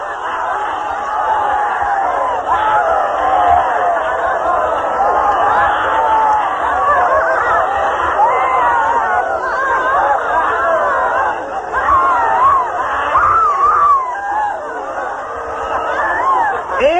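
A group in active meditation letting go all at once, a dense continuous wash of overlapping shouting, laughter, crying and chatter filling the room at steady high volume with no pauses.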